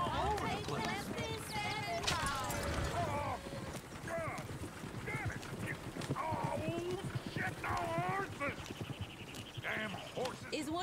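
A horse's hooves clip-clop in a busy outdoor scene, with several voices talking and calling over the steady hoofbeats and livestock bleats nearby.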